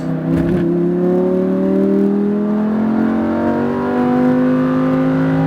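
A Lamborghini Huracan engine accelerates hard on a track at SpeedVegas, its loud, close roar climbing steadily in pitch through a continuous pull without a break.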